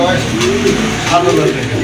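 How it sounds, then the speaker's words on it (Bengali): A pair of pigeons with head crests, short beaks and heavily feathered feet coos steadily and close up in a low, continuous murmur, with a voice present alongside. "খুবই চমৎকার এক জোড়া কবুতর"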